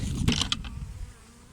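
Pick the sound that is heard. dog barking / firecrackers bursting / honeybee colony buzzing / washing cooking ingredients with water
honeybee colony buzzing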